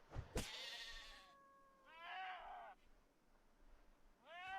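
Sheep in the game RimWorld bleat as they die on traps, with three separate wavering cries, the first preceded by a sharp hit, heard fairly faint against a low background.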